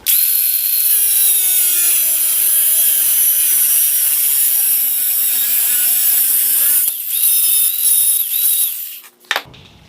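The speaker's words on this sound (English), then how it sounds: "you wanted to make a taper cut right here, and I'm going to do that right now" A saw cuts a taper on a homemade snake hook, giving a loud, steady high-pitched whine for about nine seconds before it cuts off abruptly.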